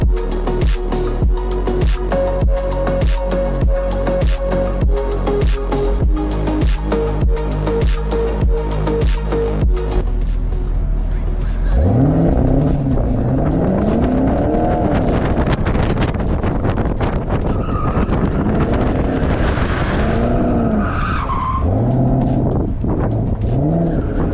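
Chevrolet Camaro SS on an autocross course: a loud, steady engine drone gives way to sweeping revs as the car shifts and corners, with tires squealing and skidding through the turns and wind buffeting the microphone throughout.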